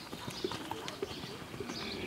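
Pony hooves clip-clop at a show-jumping event, a faint, irregular series of light thuds at a distance amid soft background noise and a quiet voice.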